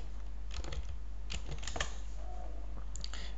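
Someone types a web address on a computer keyboard, a few short bursts of quick, light key clicks over a steady low hum, close and fairly quiet, with no speech.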